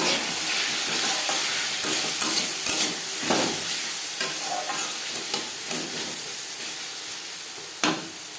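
Potatoes and okra seasoned with salt and turmeric are stirred in a hot pan, with a continuous sizzle and repeated scraping strokes of the spoon, close and clear with no talk.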